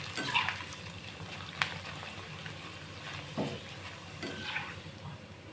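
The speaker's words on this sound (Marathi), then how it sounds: "तर पहिला बटाट्याचा किस टाकते मी. तो तापलेल्या तेलामध्ये पटकन टाकून" Grated potato shreds frying in hot oil, a steady crackling sizzle with a few sharper pops and stirring scrapes, close and fairly quiet, no voices.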